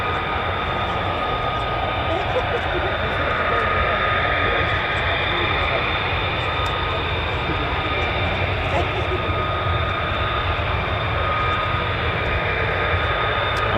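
US Air Force F-15 and F-35 fighter jets, four of them, climbing out at RAF Lakenheath: a loud, steady, broadband engine roar sustained throughout, with someone talking over it.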